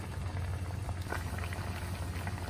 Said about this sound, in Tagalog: kumukulo na ang ating masarap na almusal, cassava roll